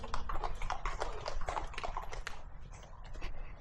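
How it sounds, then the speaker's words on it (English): Horse hooves clip-clopping on a road along the Cotswold Way, a steady close run of sharp hoof knocks over outdoor background noise. "Riding horses to Cotswolds."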